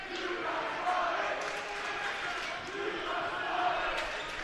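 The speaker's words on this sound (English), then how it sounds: "The Plainfield student sections cheering, they got swatted." The Plainfield student section cheering at a high school basketball game against Whiteland, a dense, steady roar of crowd noise throughout, with a commentator talking over it.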